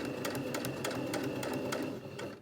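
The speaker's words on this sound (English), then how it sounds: "So that was some reverse stitching." A sewing machine stitches a skirt waistband in a fast, steady run of rhythmic needle clatter, close and continuous for a couple of seconds, with no talking.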